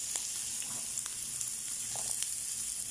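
Sliced onions frying in a home kitchen pan, giving a steady, moderate sizzle with occasional crackles and light stirring taps, close by and with no talking.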